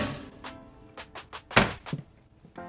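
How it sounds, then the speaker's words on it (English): Self-closing silver-tinted cabinet doors in the kitchen of a 2025 RV shut with a quick series of soft thunks and light clicks, one sharper knock standing out, in a quiet interior. "All silver tinted doors. And they're all self-closing."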